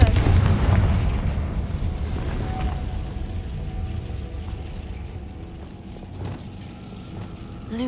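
A Confringo fire-blast spell explodes in Hogwarts Legacy with a loud, deep boom at the start that rolls into a long rumbling decay. Scattered faint crackles and thuds follow.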